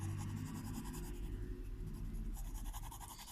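A graphite pencil pressed hard on paper during an academic drawing scratches steadily in continuous, dense strokes, close and fairly loud with no voices.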